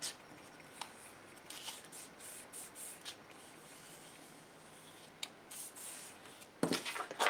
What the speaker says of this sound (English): So what I'm going to do is I'm just going to fold this in here.